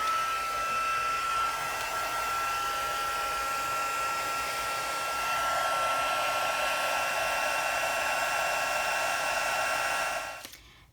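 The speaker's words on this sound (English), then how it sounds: "Got my Stampin' Up! Heat tool. I'm going to put it on 2 and heat this." Steady, loud whoosh of a Stampin' Up! heat tool on setting 2 blowing hot air for heat embossing a Christmas card, continuous for about ten seconds before it switches off and winds down.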